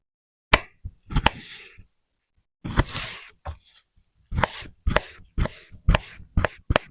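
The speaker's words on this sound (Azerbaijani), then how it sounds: "Yumurtanın sarısını çıxardın, elə doğrayın" A knife chopping boiled egg on a board, with a couple of single knocks, then a quick burst and a steady run of about eight crisp close cuts, with no talking.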